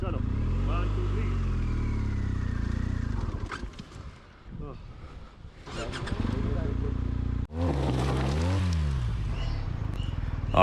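A motorcycle on a steep mountain track in Zanskar, Ladakh, its engine droning and revving in uneven surges as it is ridden up section by section, cutting out briefly near the middle. Voices are heard alongside.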